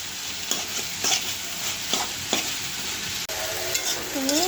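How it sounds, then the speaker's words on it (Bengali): Ripe homegrown papaya frying in a pan with green chili, a continuous close sizzle punctuated by spaced scraping stirs, fairly loud and without any voices. "পেঁপে ভাজি প্রায় শেষের দিকে হয়ে আসছে"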